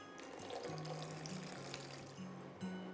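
Tamarind water trickles and pours steadily into a pot of kuzhambu in a kitchen, a soft continuous liquid splash with faint low hum beneath, no talking.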